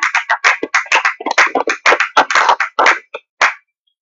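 A church congregation claps in acclamation of the Lord, a dense run of bright, close hand claps in quick bursts that stop briefly near the end and finish with one last clap.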